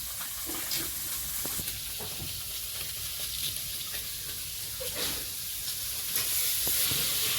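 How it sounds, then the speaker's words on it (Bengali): Fish roe fries lightly in a little oil in a kadai, a steady close sizzle and hiss with occasional soft stirring scrapes throughout, growing slightly louder near the end. "একদম অল্প করে ভেজে নিলাম হালকা অল্প করে একটু তেল দিলাম"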